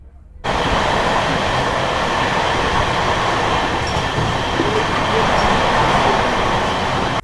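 Steady rumble of a moving Netaji Express passenger train heard from inside an LHB coach, continuous and fairly loud, with a faint high whine above the rolling noise.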